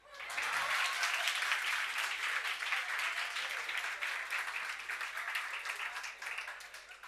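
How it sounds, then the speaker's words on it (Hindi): Students in a lecture hall for an Indian Contract Act class burst into loud, sustained applause, dense clapping that holds steady for several seconds before easing slightly. "भाई ताली।"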